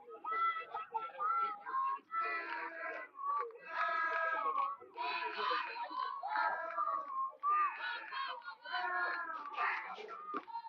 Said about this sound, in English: you can hear the Nature Coast varsity boys team cheering, and right behind them is the Nature Coast girls softball team, and they're cheering as well